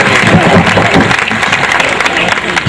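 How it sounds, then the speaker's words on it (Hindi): Enthusiastic applause from the audience at a national poetry gathering welcomes a poet to the stage, dense and fairly close, with a hint of crowd murmur woven through the clapping. "आप जोरदार तालियां बजाकर स्वागत करें उदय प्रताप सिंह जी"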